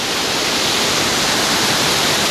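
A stream of water at Tel Dan rushes steadily as a loud, dense, even hiss with no pauses and no voices.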